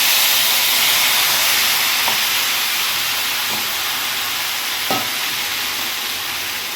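Spice paste hitting a hot pan for a Bengali curry, giving a loud, steady sizzling hiss throughout with a few soft clinks of a spoon against the pan.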